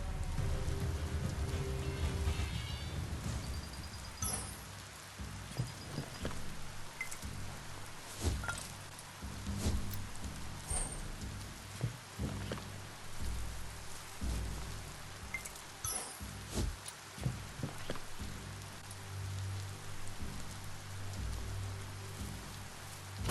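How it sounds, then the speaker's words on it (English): Video game rain in Biomutant patters steadily on a surface, with scattered louder drips and taps over a low rumble. "The rain's making it slick out."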